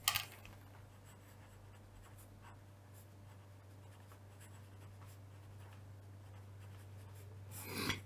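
Chalk or marker scratches across a board, a soft continuous rubbing stroke heard close in a quiet room over a steady low electrical hum, ending in a brief louder scrape.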